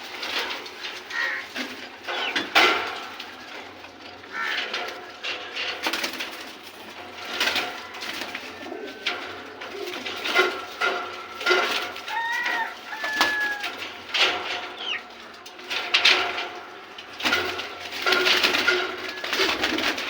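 Racing pigeons at a home loft before a race coo and call in a busy, continuous chorus of overlapping bird sounds, moderately close, with no talking.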